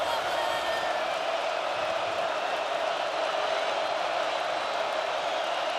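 Steady roar of a stadium crowd at a college football game between USC and Michigan, loud and continuous as the home fans try to make it hard for the quarterback on a third down.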